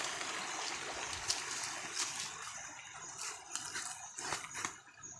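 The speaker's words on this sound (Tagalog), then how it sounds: "Yan po, maliit na ilog" Water runs steadily in a small mountain creek near a carved turtle marker and large cross, a continuous broadband rush with faint trickling detail, moderately close and unbroken throughout.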